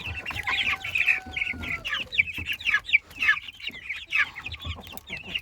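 Two-week-old Faverolles chicks peep and chirp in a brooder, a busy run of high, short cheeps repeating in irregular clusters, close and fairly loud with no talking.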